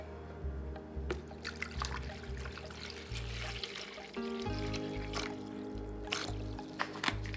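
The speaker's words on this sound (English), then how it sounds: "I am measuring out my water." Water is measured and poured into a container for making cold-process soap, trickling and splashing at close range, an uneven pour with a low background hum and small clinks along the way.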